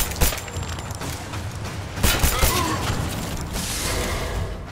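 A pistol fires rapidly in the video game Rise of the Tomb Raider, a quick volley of sharp shots near the start and middle over a dense, loud game soundscape, with no speech.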